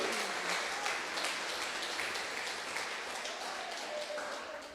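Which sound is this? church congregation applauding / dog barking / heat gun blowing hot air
church congregation applauding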